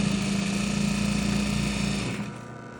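A quilt binding machine in a quilt shop stitches binding onto a quilt with a steady, close mechanical whir and hum that softens and slows near the end.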